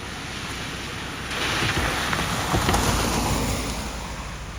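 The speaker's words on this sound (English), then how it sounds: "Just a lot of debris floating out onto the road in the heavy rain." Heavy rain falling with floodwater running across a road, a steady broadband wash of noise that swells louder partway through and stays dense to the end, with no voices.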